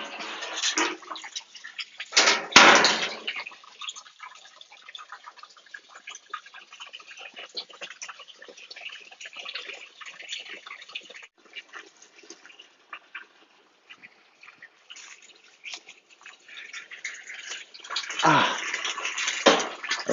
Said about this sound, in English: let's watch the siphon again in action